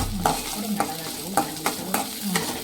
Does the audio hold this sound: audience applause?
no